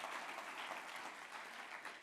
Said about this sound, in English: So I reckon that deserves a little round of applause, yeah?